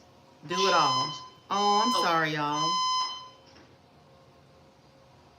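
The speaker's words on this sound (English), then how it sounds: "That was my fire alarm." A home fire alarm sounds in two loud bursts of steady, layered electronic tones, each about a second long and separated by a short gap, with a voice talking over and between them.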